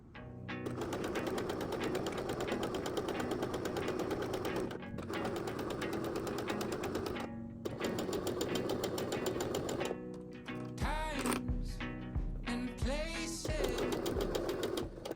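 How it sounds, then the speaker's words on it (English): A sewing machine runs a straight 1/4 inch seam along fabric for a keychain, a close steady rapid whirring clatter that stops briefly a couple of times before breaking into short, uneven bursts near the end. "Now that we're at our sewing machine, we are going to sew a 1/4 inch seam allowance, and we're going to sew just a straight line all the way down."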